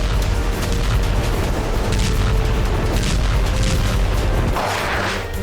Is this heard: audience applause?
no